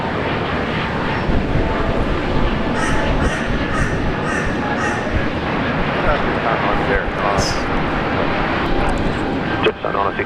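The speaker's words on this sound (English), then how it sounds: "Qantas Link A320 rolling now" A Qantas Link A320 airliner rolls down runway 19 left at Brisbane Airport on takeoff, a steady loud broadband engine roar filling the scene, with a few faint bird calls and distant voices underneath.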